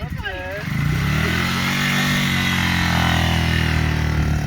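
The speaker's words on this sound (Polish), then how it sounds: "No i moim motorem moja kobieta odjeżdża z innym facetem." A motorcycle with a recently replaced clutch cable pulls away at a garden allotment, its engine droning loud and close with a steady rising pitch, while a voice talks over it at the start.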